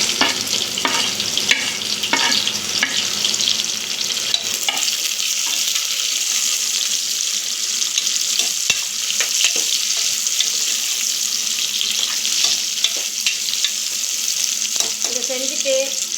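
Vegetables added to softened onion in a pan for a South Indian bisibelebath sizzle and fry while being stirred steadily, a continuous close crackle with scraping strokes and no talk.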